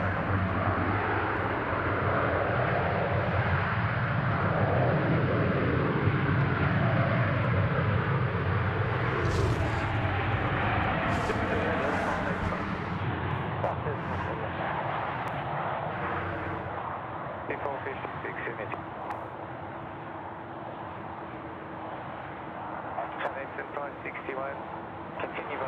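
A fixed-wing airliner roars as it comes in to land on runway 34 left at Sydney Airport, a broad loud jet rumble that slowly fades, with radio voices from air traffic control heard faintly over it.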